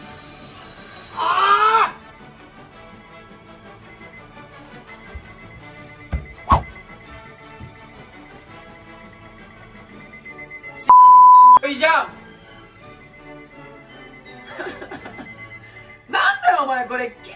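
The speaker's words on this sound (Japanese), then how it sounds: "これキッチンタイマーじゃねえかよ" A kitchen timer set as a prank alarm beside a sleeping man beeps in a steady, shrill tone nearby, while people talk and exclaim over it.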